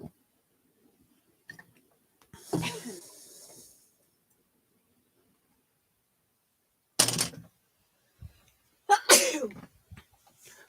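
A single sharp, close sneeze from a person at a desk during a live London market-open trading session, standing out against near silence with a few brief, fainter bursts of noise afterward.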